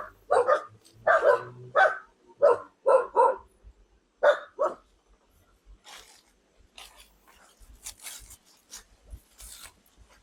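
A dog barks repeatedly in quick bursts, fairly close, at a fenced property in Alfonso, Cavite, Philippines, then quieter scattered yips and rustling follow toward the end.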